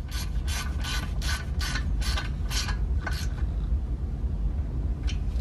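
A ratchet wrench tightens the bolt holding a new ABS wheel speed sensor on a 2011-2013 Hyundai Sonata Hybrid, about eight quick close clicks in a steady rhythm, then a pause and one last click over a low hum.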